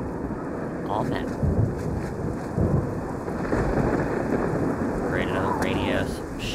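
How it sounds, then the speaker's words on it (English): A heavy rainstorm with rolling thunder in the video game Oblivion: constant rain hiss with low thunder swells rising and falling across the scene. "Rated a rainy-ass, shitty fucking rainstorm."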